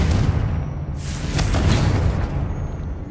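Loud Confringo blasting curse explosions in Hogwarts Legacy burst with deep booming rumbles and sharp crackling flares, a strong blast near the middle within a sustained roar, close and without speech.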